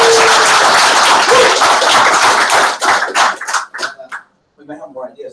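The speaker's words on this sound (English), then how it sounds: "Big round of applause for Nick." A burst of audience applause at a workshop session, dense and loud at first, thinning into scattered claps before fading out, with voices starting up at the end.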